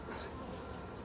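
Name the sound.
honey bees buzzing on a frame being shaken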